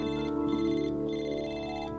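A cell phone rings during a Cold Winter video game cutscene, a steady electronic ringtone with pulsing tonal bursts, loud and close, without talk over it.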